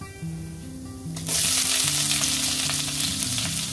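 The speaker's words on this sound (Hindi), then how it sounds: "तो ये हमने डाल दिया, जैसे ये पिंक हो जाएगी, सिर्फ उसे पिंक होने देंगे" Urad dal hits a hot pan for a diet mooli sabzi, a quiet background hum breaking into a sudden loud, steady sizzle that continues to the end.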